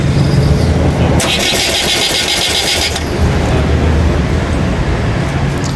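An all-Ceylon van engine cranks and catches, followed by a loud high-pitched whine for a couple of seconds, then settles into a steady running rumble.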